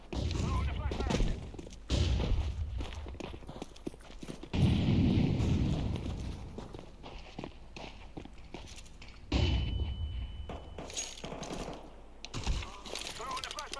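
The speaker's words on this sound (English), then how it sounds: "Throw the flashbang." In a first-person shooter game, a flashbang grenade goes off amid gunfire. Dense bursts of rapid shots and two loud, broad blasts stand out over a busy game soundscape.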